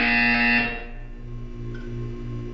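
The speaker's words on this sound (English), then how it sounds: "You will hear a buzzer." A loud electronic buzzer tone from the video game Portal 2 sounds steadily for about half a second, then cuts off and leaves a quieter humming game ambience.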